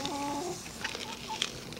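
A backyard hen clucks at close range during morning feeding, short soft clucks and chirps scattered over a dense, noisy background without any talking.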